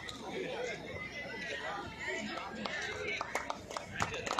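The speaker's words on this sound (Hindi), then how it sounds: "तालियां जोर से, तालियां इतनी जोर बजनी चाहिए कि गड़गड़ाहट हो" A crowd claps at the inauguration of a cowshed in Bilari, Moradabad, as scattered sharp hand claps rise toward the end over busy chatter and voices.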